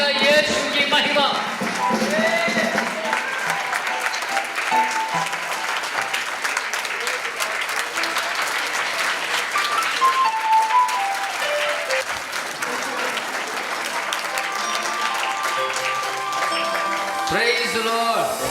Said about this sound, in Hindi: आप ताली बजाइए।